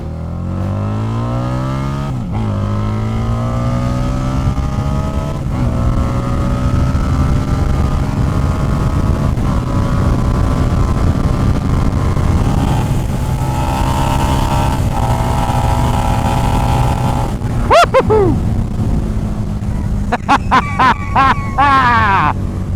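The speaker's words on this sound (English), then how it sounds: "A Harley pulling that hard and sounding that good on the pipe" A Harley-Davidson motorcycle built by a supercar maker revs and accelerates hard through its exhaust pipes, engine pitch climbing steadily through the gears, loud and close, with sharp throttle blips near the end.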